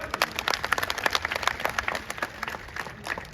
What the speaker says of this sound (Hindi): अब ताली बजाओ तो जोर से बजाओ